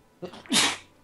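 A single sharp human sneeze, a short intake followed by one loud burst, close and clear against a quiet background.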